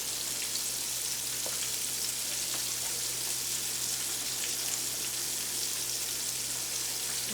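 Raw chicken pieces frying in hot oil, giving a continuous, even sizzle with fine crackles and a few faint pops, steady and close with no talking.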